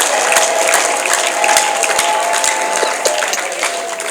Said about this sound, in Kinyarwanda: Imana mwayikomeye amashyi ko nta kwitangiza.